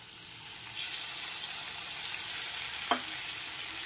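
Vegetables sizzle and fry in a pan with tomato paste while being stirred, a steady close hiss with a faint scrape partway through and no talking.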